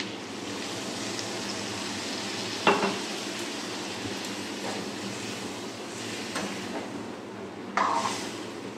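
A little water poured into frying prawn gravy in a pan brings a steady sizzle, punctuated by sharp clinks and scrapes of a spoon stirring against metal, close and moderately loud.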